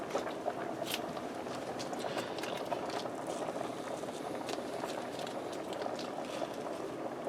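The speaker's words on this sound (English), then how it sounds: "I'm boiling some fettuccine noodles over here to serve this with." Steady bubbling and hissing of a pot of pasta water at a rolling boil, cooking fettuccine, continuous and close, with no voices.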